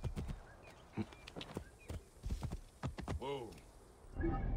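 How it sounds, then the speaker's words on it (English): Horse hooves in Assassin's Creed Origins clop closer in a quick, uneven run with soft game footsteps and a snort, fairly faint and mostly heard alone. "Let's call our horse."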